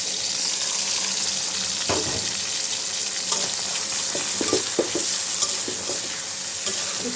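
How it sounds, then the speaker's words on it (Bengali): Chopped garlic, green chilies and ginger paste fry in a pan with a steady, close sizzle, with a few stirring scrapes and clinks of the utensil breaking through. "লাল করে ভেজে নিই"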